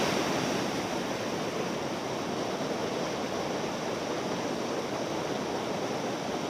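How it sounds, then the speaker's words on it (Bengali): A waterfall over rocks in Bhutan roars in a dense, steady wash of rushing water, loud and close, with no voices over it. "দেখতে পাচ্ছেন ঝর্ণা"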